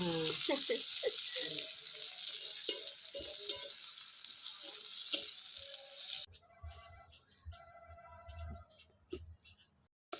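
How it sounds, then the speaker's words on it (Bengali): Onions fry in a pan for a Bengali crab curry, giving a close, busy sizzle with stirring scrapes and clatter. The sizzle drops away partway through, leaving quieter kitchen handling noises. "এই দেখেন পেঁয়াজ লাল লাল করে ভেজে নিচ্ছি"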